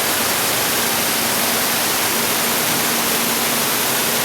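Inside a lit cave, a waterfall gives off a steady, hissing wash of falling water with a faint low hum beneath, unchanging throughout and with no speech.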